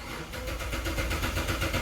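A 2007 Chrysler 300 engine cranking without catching, a fast, even pulsing churn of the starter turning the engine over, loud and close throughout with no talk.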